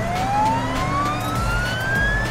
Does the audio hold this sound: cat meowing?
no